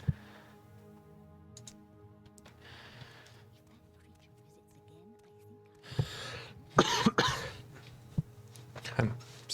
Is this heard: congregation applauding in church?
no